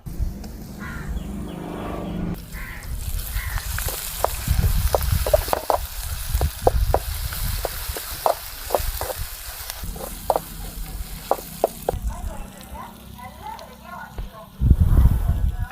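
Cinnamon, cloves and ginger garlic paste frying in a pan, a steady sizzle broken by repeated sharp stirring scrapes, with a voice talking over it.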